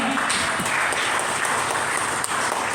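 A crowd claps steadily for Lefty, a continuous dense wash of applause with no break through the short stretch.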